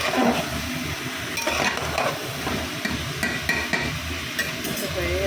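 Vegetables frying in a pan with a little water added to cut down the oil, stirred with a utensil that scrapes and clinks against the metal over a soft sizzle, close and moderately quiet.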